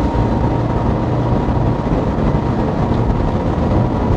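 A Saxdor 320 GTO motorboat running at 4,500 revs and about 35 knots, its engine a loud, steady, close roar that blends with rushing water and hull noise, with no voices.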